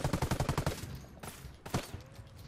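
A shotgun in the video game Ghost Recon Wildlands fires a quick run of about eight evenly spaced blasts, then two heavier reports follow after short gaps, close and fairly loud.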